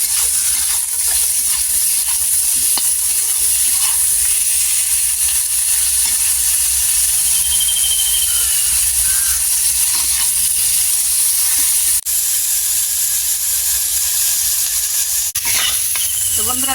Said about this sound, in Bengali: এগুলোকে আমি ভালো করে লাল লাল করে ভেজে নেব